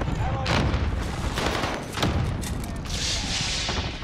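Airstrike explosions and gunfire in the video game Warzone, with dense rapid bursts of shots and booming blasts filling the scene, close and loud, while players talk over the din.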